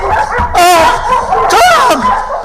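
Dogs let loose in a radio drama sound effect, barking and yelping in two sharp loud bursts close by over a busy background.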